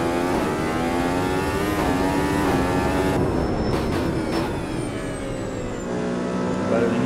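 Race car engine in the sim racing game Automobilista 2, a loud continuous high-pitched roar with rising and falling revs and a sharp gear change midway, heard alone.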